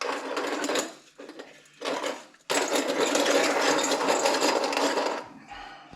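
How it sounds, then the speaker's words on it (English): A black pepper grinder grinding pepper for bread dough, gritty rasping bursts close by: a short grind, a pause, a brief one, then a long sustained grind that stops abruptly. "I got this black pepper grinder."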